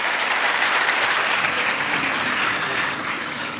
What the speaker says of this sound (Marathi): सगळ्यांनी जिल्हाधिकारी महोदयांचं आपण टाळ्या वाजवून स्वागत करूया.